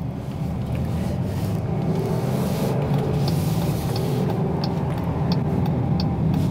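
Steady engine and road roar from a 2021 Jeep Grand Cherokee L with a V6 accelerating at highway speed, a continuous loud cabin drone with tire and wind noise throughout.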